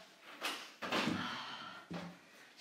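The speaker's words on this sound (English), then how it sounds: "I might open the door." A door is pulled open indoors during a home dance workout, a few close thuds and creaks with a longer scraping rustle in the middle, fairly quiet in a calm room.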